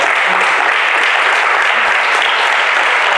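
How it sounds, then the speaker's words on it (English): A seated audience at a panel discussion on Black educational and economic empowerment gives steady, loud sustained applause for the panelists, dense clapping without pause throughout. "Let's give our panelists a round of applause"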